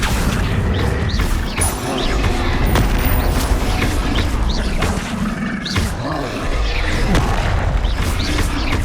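Spells such as Confringo being cast during combat in the game Hogwarts Legacy, giving a loud, dense, unbroken barrage of booming, crackling blasts that overlap with little pause.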